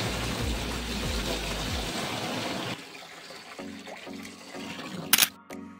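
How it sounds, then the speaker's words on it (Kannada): Water pours into an aquarium fish tank being set up for pacu fish, a loud rushing splash for nearly three seconds that stops and leaves quieter trickles and a sharp click. "ಇವಾಗ ಇದಕ್ಕೆ ವಾಟರ್ ನ ಫಿಲ್ ಮಾಡ್ಬೇಕು"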